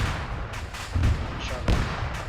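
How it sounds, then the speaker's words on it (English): Explosions and gunfire in a military video game, several loud booming blasts and sharp shots at irregular intervals, with voices talking over the chaotic battle noise. "All the explosions make it hard to hear."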